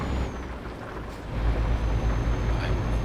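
A Mercedes-Benz Actros truck engine revving in Euro Truck Simulator 2, with a deep low rumble that swells louder midway and holds steady, continuous and close.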